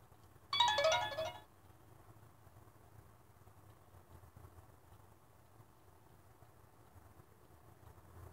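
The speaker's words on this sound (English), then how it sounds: "Phone's blowing up." A mobile phone ringtone rings once, loud and brief, for about a second during a lawn care workday, then a low engine idle hums on alone.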